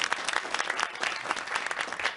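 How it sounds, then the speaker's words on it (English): Studio audience applauding on a television talk show, a brief burst of dense, steady clapping heard clearly on its own, with no talk over it. "Kat, yes, you can applaud."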